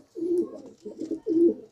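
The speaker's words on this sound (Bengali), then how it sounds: "এই যে নর পায়রাটা আমার খুবই পছন্দের পায়রা" A male pet pigeon with a banded tail coos in three low, throaty bursts at close range, with short pauses between them and no talk.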